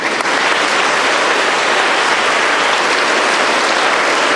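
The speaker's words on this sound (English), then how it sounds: "Just clap your hands." A school audience claps hands at a yoga and music day celebration, a loud, dense, continuous roar of applause filling the space without a break.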